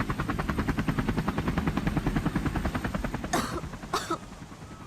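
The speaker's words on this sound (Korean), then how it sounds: "헬기가 되게 낮게 난다" Orange fire helicopter flying low overhead in Jeju, a loud rapid rotor thumping that pulses steadily, with two brief noisy bursts standing out over it.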